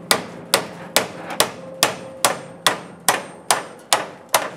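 Hammer blows on a car body panel being shaped and contoured before welding, about eleven sharp metallic strikes in a steady rhythm, loud and close with short ringing decays, no talk.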